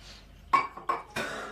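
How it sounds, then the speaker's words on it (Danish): Clinks and knocks of glassware and dishes as a drinking glass is picked up at a table, three short bright taps close by in a quiet room. "Nu skal jeg tage glas."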